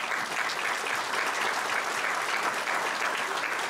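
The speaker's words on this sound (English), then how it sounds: "let's give her a round of applause" An audience at a chamber of commerce awards dinner applauds, dense steady clapping that fills the room, even and sustained throughout with no talk over it.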